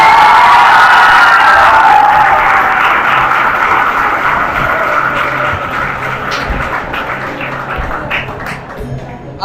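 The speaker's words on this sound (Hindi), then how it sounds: "खुद के लिए तालियां बजाइए कम से कम।" A theatre audience at a heritage festival drama performance breaks into loud applause and cheering. A dense roar of clapping and shouts tapers gradually toward the end.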